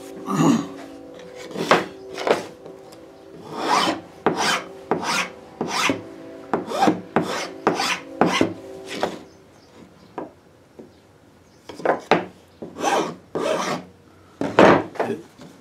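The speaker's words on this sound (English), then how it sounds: "a file is the best way to trim formica or melamine." A file rasps back and forth across the edge of Formica or melamine laminate in quick, rhythmic strokes, close and loud, with a short pause midway before the strokes resume.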